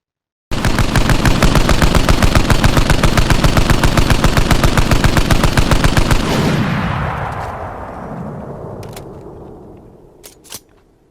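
Rapid automatic gunfire from a Halo weapon mod in Arma Reforger rattles loudly and steadily for several seconds, then stops and echoes away, with a couple of sharp clicks at the end.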